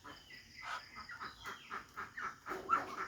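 Chickens clucking in a rhythmic series of soft, fairly close calls, with faint insect chirps in the background.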